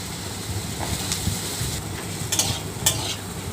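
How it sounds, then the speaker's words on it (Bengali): Pumpkin frying in ghee in a pan as it is stirred and turned, with a continuous close sizzle under irregular scraping and clinking strokes and a few sharper ticks, steady and moderately loud, no voices. "এদিক ওদিক করে নেড়ে চেড়ে"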